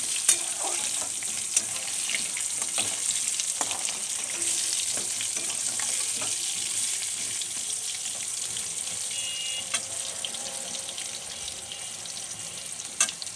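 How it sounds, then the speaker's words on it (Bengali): Potato pieces fry in hot oil with whole cumin, cardamom, cloves and cinnamon, giving a steady, close sizzle with occasional stirring clinks and scrapes throughout. "এবারে দিয়ে দেবো আলু ছেড়ে দিলাম এর মধ্যে। আলুটা একটু ভাজা হোক।"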